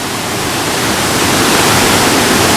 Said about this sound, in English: the last waterfall we will be getting to today